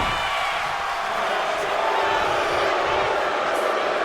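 A wrestling arena crowd in WWE 2K25 roars steadily in a dense, continuous wash of noise, with a commentator talking over it.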